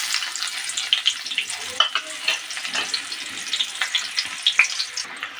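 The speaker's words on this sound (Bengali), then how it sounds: "এবার এই তেলটার মধ্যে আমি পেঁয়াজ কুচি দিয়ে দেবো" Chopped onion frying in hot oil, a dense continuous sizzle with crackling pops and occasional stirring scrapes, close and fairly loud.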